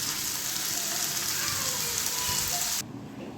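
Steady rain pours down on a rainy evening while cooking is underway, a dense even hiss of drops that abruptly cuts to a quieter background near the end.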